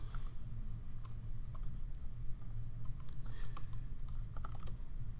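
Steady, rapid clicking of keys on a computer keyboard as text is typed in, close and continuous without pauses, with no voices.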